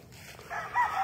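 A big brown red gamecock on a farm crows once nearby, the call starting abruptly halfway through and swelling loud before being cut off.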